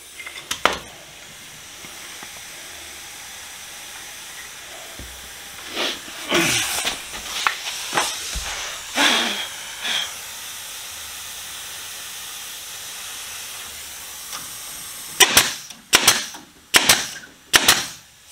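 Pneumatic brad nailer driving brad nails into wood during a teardrop trailer build, giving sharp isolated pops with short air hisses: a few scattered shots early on, then a quick cluster of loud bursts near the end.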